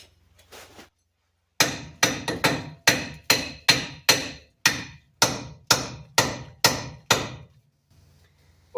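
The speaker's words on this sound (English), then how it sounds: "But I will probably have to get a bigger hammer." Repeated hammer blows strike the steering knuckle of a 1998 Ram 1500 truck during U-joint and axle seal work, about a dozen loud metallic whacks in a steady rhythm, close and alone.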